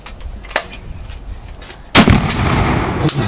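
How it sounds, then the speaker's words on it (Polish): Gunshots at a shooting range fired at a target: a sharp crack, then a louder close blast with a lingering rumble and a further shot near the end. "Strzelił."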